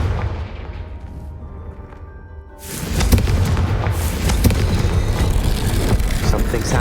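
In the video game Hogwarts Legacy, a Confringo explosion spell goes off: after a quieter stretch, a sudden loud boom bursts in and carries on as a dense, rumbling blast and crackle until the end.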